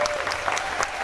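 A school band concert audience for grades 5 to 8 claps steadily for a student asked to stand, a dense patter of many hands filling the brief moment.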